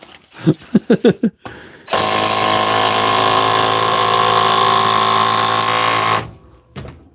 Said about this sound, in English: The first battery powered hammer in the world.